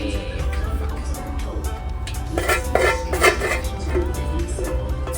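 A kitchen pan that is not non-stick clanks and clinks against cookware and utensils in irregular metallic knocks, with a cough and faint background noise around them.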